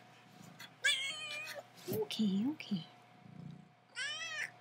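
A cat meows repeatedly beside a watercolor painting session, several clear, drawn-out calls close up, with a person speaking softly and an imitated meow mixed between them.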